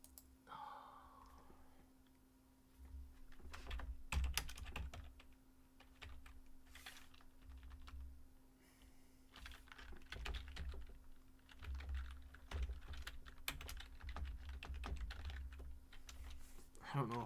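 A password goes into a computer keyboard as irregular bursts of close, light key clicks, with pauses between runs and a faint steady hum underneath.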